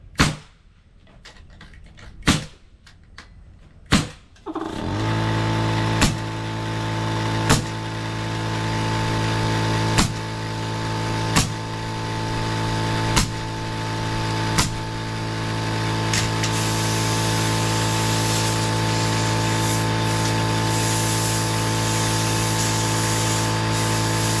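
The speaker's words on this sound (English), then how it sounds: "I was waiting on the air compressor to turn off." An air compressor at a gable roof framing job kicks on after a few sharp knocks and runs loud and steady with a droning hum, while sharp nail gun shots punctuate it at regular intervals.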